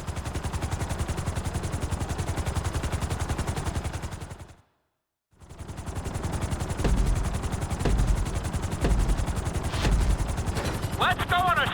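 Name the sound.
helicopter flying in the video game GTA 5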